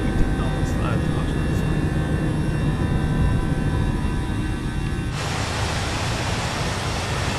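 A simulated Airbus A318 airliner climbs after takeoff in a flight-sim game, giving a loud, steady broadband engine roar with faint tonal whine, which brightens abruptly partway through. Brief speech may sit under the noise.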